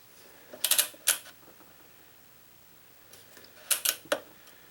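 A Gamma drop-weight racket stringing machine with flying clamps tensioning string on the mains, giving two short bursts of clicking and ratcheting mechanical taps separated by a quiet pause, close and fairly crisp.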